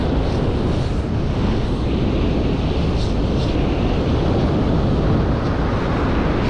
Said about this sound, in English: this wind is nuts